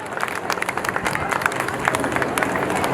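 Dense, steady applause from a crowd at a large Hindu gathering (a Virat Hindu Sammelan), clapping for children and their mothers. Sharp claps rise and fall continuously and fill the space for the whole stretch.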